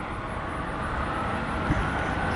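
A Delta airliner at Washington National Airport (DCA) drones in a steady, loud, broad roar of jet engine noise heard from nearby, with one brief low thump partway through.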